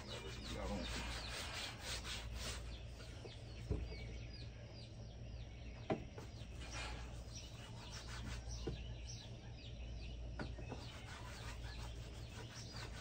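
Hand rubbing conditioner into a thick animal hide, a steady soft scraping friction that continues throughout, close and fairly quiet, with a low hum beneath and occasional birds chirping in the background.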